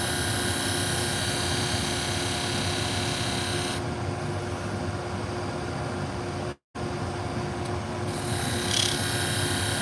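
Pet grooming shears being sharpened on a hone: a continuous close rasping, grinding whir with a steady hum beneath it, briefly cut off for a moment before resuming.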